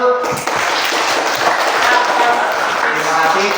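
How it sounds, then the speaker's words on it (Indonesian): A classroom audience gives a short burst of applause after a group presentation in a micro-teaching session, dense steady clapping lasting a few seconds. "Tepuk tangan dulu"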